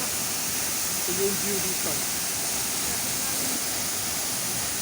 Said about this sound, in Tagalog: Siguro mga 20 meters from downfall ng isang tubig, ang tubig punta dun sa taas.